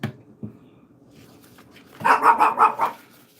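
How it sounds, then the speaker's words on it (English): Small dog yapping nearby, a couple of faint early sounds followed by a quick run of four or five sharp barks in the second half. "That's a little dog. Did you hear it?"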